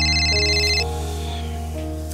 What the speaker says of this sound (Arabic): رد على الموبايل.